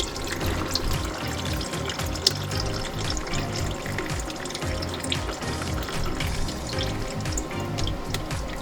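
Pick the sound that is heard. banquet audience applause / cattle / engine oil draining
engine oil draining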